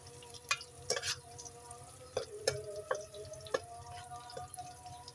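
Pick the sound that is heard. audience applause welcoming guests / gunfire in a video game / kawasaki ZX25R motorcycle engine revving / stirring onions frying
stirring onions frying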